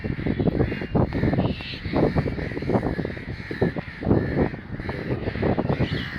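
Parrots kept in a cage give a continuous chorus of harsh, loud, overlapping squawks and screeches, close by and without pause, with no talking over them.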